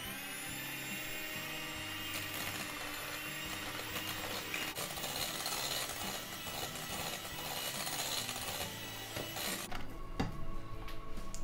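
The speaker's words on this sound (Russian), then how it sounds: "И взбиваю миксер." An electric hand mixer whips sour cream frosting sweetened with powdered sugar for a chocolate sponge cake, a loud steady whirring drone that runs unbroken for the full length with no talking.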